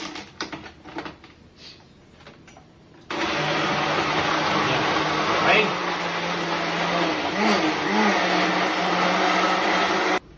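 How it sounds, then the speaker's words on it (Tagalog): A personal blender motor kicks in abruptly and whirs steadily at close range for several seconds pureeing squash, following a stretch of quiet handling and a brief spoken word. "Blender natin."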